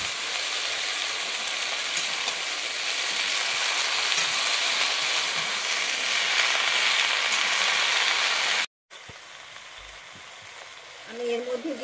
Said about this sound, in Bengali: আমি এর মধ্যে দিয়ে দিচ্ছি এবার কেটে রাখা সবজিগুলো।